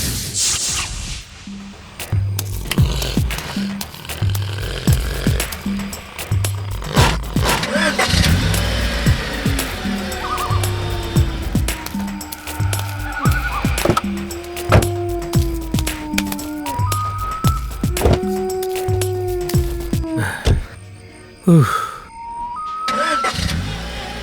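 A car engine cranks and catches after stalling, followed by rising revs with sweeping tonal whines, heard close and fairly loud alongside scattered background sounds, ending in a brief quiet gap.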